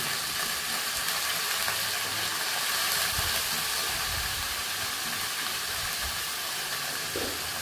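Chopped carrot, cabbage and beans hitting hot oil in a pan for Tamil cabbage poriyal, a close, steady broadband sizzle with a few soft clunks of vegetables and utensil, no talking.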